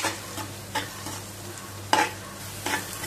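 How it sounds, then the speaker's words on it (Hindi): Spice masala with jaggery roasting in a pan over a low flame, with a gentle sizzle and rhythmic stirring scrapes every second or so, one sharper knock midway, close and without speech. "अब मसाले को हम अच्छे तरीके से 4 से 5 मिनट के लिए भून लेंगे।"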